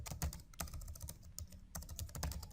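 Fast typing on a computer keyboard while HTML code is written, a steady stream of close, light key clicks with a few brief pauses, quiet throughout.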